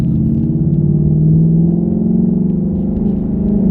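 A 2019 Mustang GT Premium PP1 with a 10R80 automatic transmission drones steadily from inside the cabin, its low engine note rising and falling slightly as it moves through gear changes.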